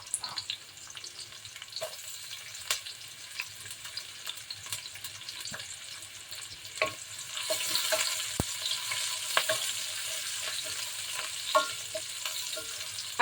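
Onions fry in a pan as the start of a creamy chicken macaroni soup, with a steady close sizzle and crackle that grows louder partway through, broken by occasional clicks and stirring knocks.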